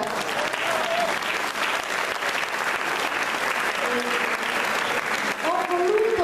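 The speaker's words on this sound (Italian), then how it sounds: "un applauso soprattutto a quelli che per la prima volta" Theatre audience applauding at a school drama workshop performance, sustained dense clapping throughout with some voices and whistles rising over it near the end.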